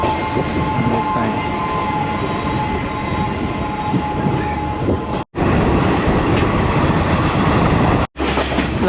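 Loud, dense rumble and rattle from a second-class Sri Lankan train moving along, heard from on board as a steady roar, briefly cut twice near the end.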